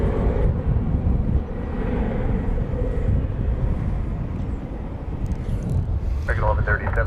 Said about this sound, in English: Next arrival coming in from Fort Sioux Falls, South Dakota. American 1878. Will be an Airbus A319.